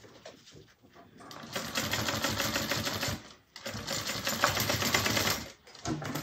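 A sewing machine stitches across the seam of a satchel in two long, steady bursts of rapid mechanical clatter, with short pauses between them and a brief restart at the end.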